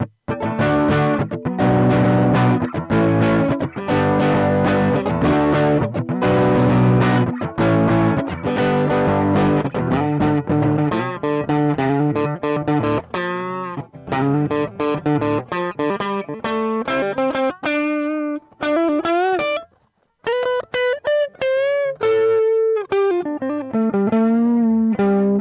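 Electric guitar through a Boss BD-2 Blues Driver overdrive pedal, gritty and driven, strummed in dense chords before shifting to sustained single notes and bends, with one brief gap near the end; no voices.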